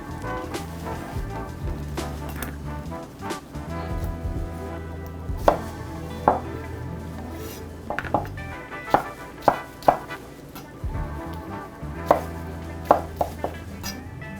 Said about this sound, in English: Now I got to get them chopped.